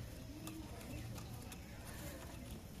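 Pigeons cooing at a pigeon seller's place near Bagnan, soft low coos repeating faintly under quiet background noise with distant voices.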